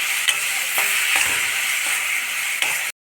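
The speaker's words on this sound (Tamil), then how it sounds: "இந்த விழுதை வந்து நல்லா இதில் போட்டு நல்லா வதக்கிக்கலாம்" Ground raw mustard and coconut paste being sautéed in a pan for a rice dish, a close, steady bright sizzle with faint stirring scrapes, cut off abruptly at the end.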